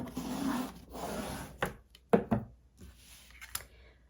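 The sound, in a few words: burnishing a folded paper album page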